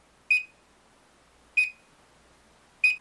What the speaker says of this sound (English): if the coolant flow rate is stopped or is low, an alarm will sound and the display will flicker